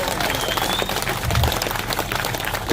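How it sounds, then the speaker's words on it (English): A small outdoor crowd applauds, with scattered clapping at moderate volume that holds fairly steady throughout and is mixed with some voices. "I want to give a massive round of applause to that child"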